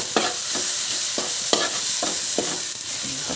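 Vegetables for pakbet sizzle steadily in a hot pan while a utensil scrapes and stirs them in about seven regular strokes, close and clear with no talking.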